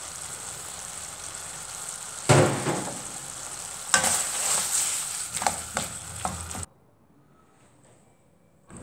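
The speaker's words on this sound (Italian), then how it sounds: "Mescolo bene, aggiungiamo il prezzemolo" Spaghetti aglio olio e peperoncino is stirred in a pan, a steady sizzle broken by several loud scraping, tossing bursts, then falling to near silence at the end; nobody speaks.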